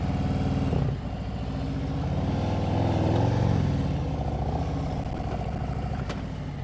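A motorcycle engine runs steadily at low revs through a slow U-turn while the rear brake is stabbed, with a slight rise and dip in the engine note partway through and a constant mechanical rumble.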